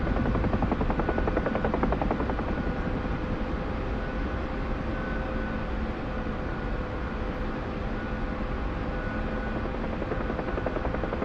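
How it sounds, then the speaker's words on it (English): A Chinook helicopter sits on the ground in the DCS flight simulator game, its rotors and engines holding a constant whirring drone that stays loud and unbroken throughout, with no voices. "The Chinook's finally on the ground."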